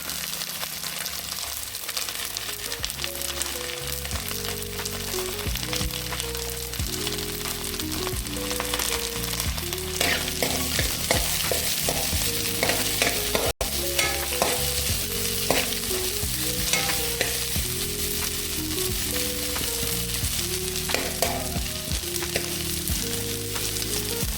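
Chopped garlic and ginger fry in a pan for a chicken dish, a steady loud sizzle running throughout, with repeated stirring strokes scraping the pan in rhythm and no talking.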